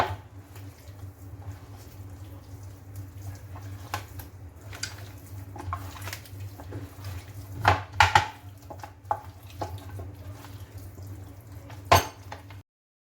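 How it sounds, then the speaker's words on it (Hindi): Chopped ginger being mixed into a chicken marinade, heard as soft utensil clinks and scrapes against a bowl with a few sharper knocks near the end, over a low steady hum. "ये मैं ले लूँगी जिंजर भी। अब इसको मिक्स कर देंगे।"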